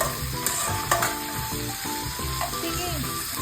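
Chopsuey vegetables sizzle loudly in a hot pan while being stirred, with steady frying hiss and repeated scraping strokes of a utensil at close range.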